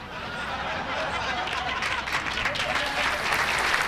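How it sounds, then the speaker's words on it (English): A canned applause effect triggered by a button during a livestreamed concert with a Zoom audience, a smooth wash of recorded clapping that swells gradually, with speech mixed in beneath it. "when I press the applause button, it triggers a random..."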